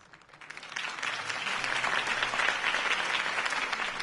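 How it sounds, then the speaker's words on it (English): Applause from a crowd swells up quickly and holds as a dense, steady wash of clapping, heard from a moderate distance. "could have heard that applause"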